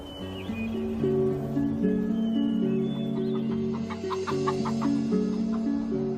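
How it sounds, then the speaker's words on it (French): Several hens cluck and murmur nearby in their enclosure in overlapping, steady calls, with no talking. "Les poules pondent dans leur enclos et un coq se pavane au soleil."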